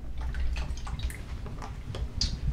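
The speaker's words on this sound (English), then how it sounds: "And then we'll also add some coconut milk." Coconut milk poured into a pot of seasoned water for vegan Thai green curry noodles, heard as close, irregular drips and small splashes of liquid over a low background rumble.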